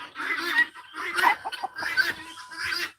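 Chickens in a poultry pen cluck in several short, overlapping bursts, close and fairly loud, with no talking.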